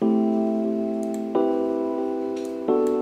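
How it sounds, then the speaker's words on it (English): An electric piano sounds sustained chords through Valhalla Room reverb with EQ applied, three struck chords spaced about a second and a half apart, each ringing into a long washed tail, with a few faint ticks. "this particular electric piano is sent to mixer channel 4, and I have this effect on it."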